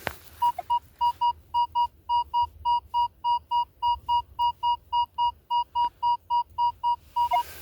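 A Minelab X-Terra Pro metal detector, used while digging at a hunting site, sounds a steady run of about twenty short, even electronic beeps at one clear pitch, close and alone.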